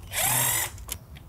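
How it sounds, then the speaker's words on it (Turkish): A pneumatic impact wrench works on turbo bolts of a Mercedes ML300 CDI V6, giving one short, loud, high-pitched whir under half a second long, followed by faint clicks. "Lokma tabanca, Turbo bölümünde lokma."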